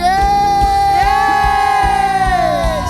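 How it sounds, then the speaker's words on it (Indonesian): Church congregation cheering and shouting together as a loud, sustained crowd roar, with a strong sung or musical tone running through it. "Semuanya sorakan,"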